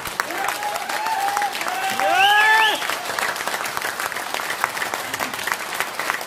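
Audience at a direct-selling network marketing event applauding in a hall, steady crowd clapping while a voice speaks over it in rising, sustained tones, the clapping continuing under and after the voice.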